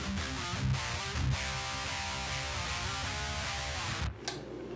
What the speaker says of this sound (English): Pretty much, if you don't have a cab, the amp sounds like this.